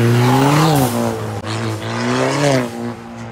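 A Ford Fiesta ST with a Milltek full exhaust and Stage 1 tune at 215 horsepower roars close by as it accelerates hard, its pitch climbing, briefly dropping at a gear change, then rising again.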